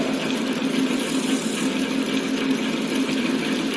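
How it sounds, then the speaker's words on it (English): Horizontal milling machine cutting the 12th tooth of a helical gear, a steady mid-pitched mechanical drone with a constant hum running evenly throughout, fairly loud and without pauses. "The operator tries to cut the 12th tooth on helical gear."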